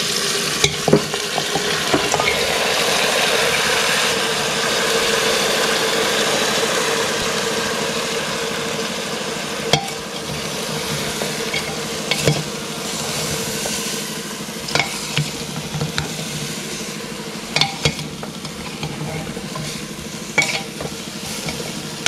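Meat frying in a pan gives a dense, continuous sizzle, with sharp scraping and clacking knocks from stirring at irregular intervals, loud and close with no speech.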